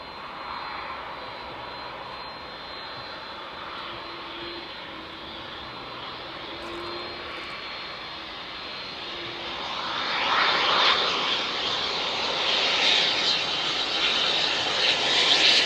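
A Saab freighter aircraft at East Midlands Airport at night, its engine drone steady and moderate before growing louder and rougher as it comes nearer toward the end.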